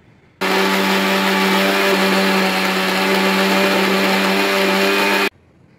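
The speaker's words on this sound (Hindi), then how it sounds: "और ये सारे ड्राई फ्रूट्स रोस्ट होके अब मैंने मिक्सी में इनको दरदरा चला रही हूँ।" A mixer grinder coarsely grinds roasted dry fruits, including almonds, for a festive sweet offering. It runs as one loud, steady whirring drone for about five seconds, starting and stopping abruptly, with no voices over it.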